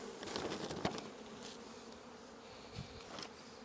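Honeybees buzz in a steady, moderately loud drone as a frame is shaken so the bees drop into a six-frame hive box, with a few brief knocks and thumps from the handling. No smoker is in use.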